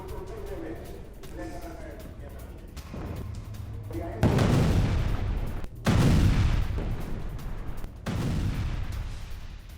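Bomb explosions from an Israeli airstrike in Aita al-Shaab, southern Lebanon, sound as heavy rumbling blasts and booms, several sudden loud bursts rolling over continuous noisy background roar.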